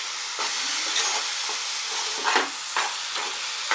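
Fresh grated coconut filling for puran poli being mixed to a thick consistency, heard as a close, steady rough scraping with several sharper stirring strokes and no talk.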